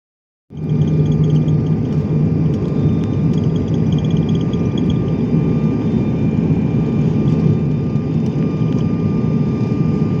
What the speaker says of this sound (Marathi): विमान आकाशात उडण्यासाठी सज्ज झालं होतं.